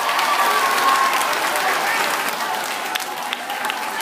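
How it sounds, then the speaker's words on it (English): Steady applause from an audience fills the whole stretch, a dense wash of many hands clapping at even loudness with faint crowd noise underneath. "Give them a round of applause"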